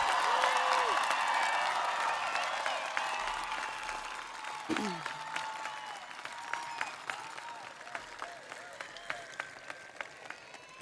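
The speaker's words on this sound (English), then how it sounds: "Could we please have a big round of applause for the class of 2024?" A large crowd at a high school graduation applauds loudly, the clapping gradually thinning and fading over several seconds, with scattered cheers and voices mixed in.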